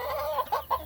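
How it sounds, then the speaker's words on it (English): A flock of chickens with roosters clucks close by in a backyard garden, giving several short, bright, rising clucks in quick uneven succession with no talking. "Here's one of our other roosters up here at the top."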